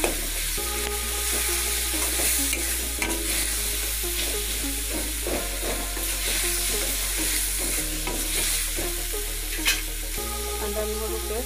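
Ginger garlic paste sizzles and fries in a pan for an Assamese paneer and potato masala, with a spoon stirring and scraping steadily throughout, close and continuous, with no voices.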